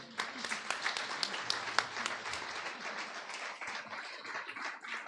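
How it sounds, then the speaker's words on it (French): A church congregation at a Sunday service applauds newly installed members, with lively, uneven clapping throughout and a voice briefly audible early on. "On peut les applaudir, voilà."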